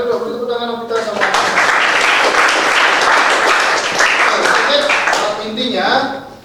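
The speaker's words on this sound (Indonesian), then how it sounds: "silakan dulu beri tepuk tangan Novita sama." A classroom group breaks into loud, sustained clapping close by, steady for several seconds before tapering off, with voices heard at the start and end.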